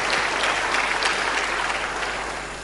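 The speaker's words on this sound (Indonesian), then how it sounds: "Tepuk tangan yang paling meriah buat Tuhan kita" A church congregation breaks into loud, sustained applause with dense, even clapping throughout that tapers slightly toward the end.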